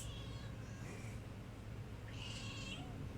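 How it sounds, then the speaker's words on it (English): A cat meows twice, faint and somewhat distant, over a steady low hum in a quiet indoor room, with no one talking. "Being aware of cats."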